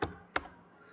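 Two sharp keystroke taps on a computer keyboard, spaced about a third of a second apart, quiet and close, while a spreadsheet formula is typed in.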